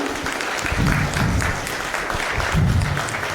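An audience at a New Year gathering applauds steadily, a continuous wash of clapping with slight surges, close and moderately loud.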